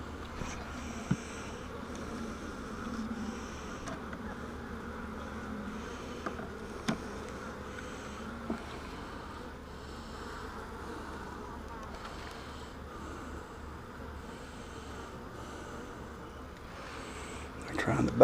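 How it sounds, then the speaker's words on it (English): Steady low insect buzzing fills the background throughout, a dense hum of many honeybees during a hive inspection, with soft handling noises and occasional small knocks close by. "there are not that many bees in here, really."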